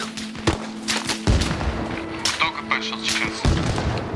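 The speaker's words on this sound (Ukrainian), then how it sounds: "По мені стріляють, по мені стріляють." Sharp gunshots crack repeatedly at irregular intervals in the video game Arma Reforger, several bursts close together, over a steady low hum and background chatter from the game.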